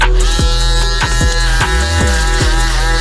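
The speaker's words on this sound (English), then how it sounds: "now we're gonna use my Babyless Pro blue double foil shaver to clean up under that first guideline and get it nice and crispy" Babyless Pro blue double foil electric shaver trimming hair during a low crop fade haircut, a loud close continuous buzzing whine with brief dips as the foil passes over the head.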